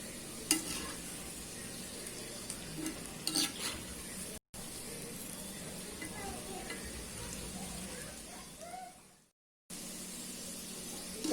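Steady hiss and sizzle of onion pakoda frying in oil over a medium flame, continuous and fairly quiet, with occasional stirring and turning sounds and a couple of brief dropouts.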